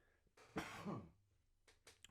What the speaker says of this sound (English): edit out that cough